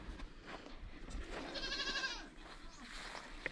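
Nigerian Dwarf goats in a pasture pen give a drawn-out wavering bleat at middle distance, with softer calls and faint rustling around it.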